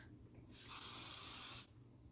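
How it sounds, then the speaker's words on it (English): A single continuous spray from a hairspray can hisses for about a second, close and bright, between quiet moments. "I'm gonna put hairspray"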